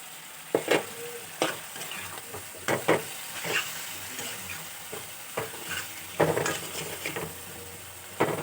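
Spice paste and chopped tomatoes are sautéed in a pan for a rui fish curry, with a sizzling hiss and irregular, loud spatula scrapes and clanks against the pan.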